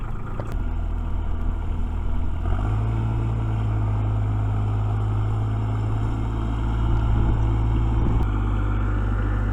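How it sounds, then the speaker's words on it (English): A tractor engine drones loudly and steadily while it pushes logs forward onto a trailer, its low rumble deepening slightly partway through, with no talking. "Push it a little more with the tractor,"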